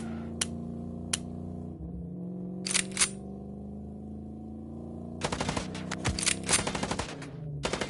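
Sharp gunshots from the game Chicken Police crack out in scattered single reports at first, then a denser volley of rapid shots toward the end over a steady low hum of background music.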